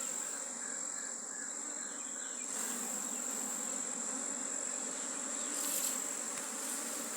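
Honey bees swarm around an open hive during an inspection in Jamaica, a dense, steady buzzing drone that fills the whole stretch with no break.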